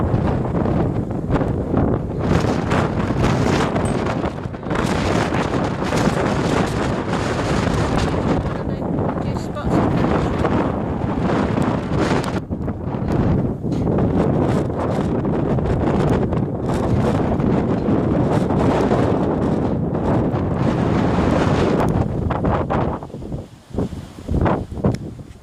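Strong wind buffets the microphone throughout a countryside walk past a dairy farm's cow tracks and yard, a loud continuous roar with gusty surges that drops away briefly near the end.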